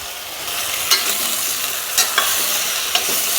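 Bottle gourd and potato pieces coated in spices sauté in hot ghee with a pinch of asafoetida in a cooker, a steady broadband sizzle with a few sharp stirring clinks and scrapes spaced about a second apart, close and alone.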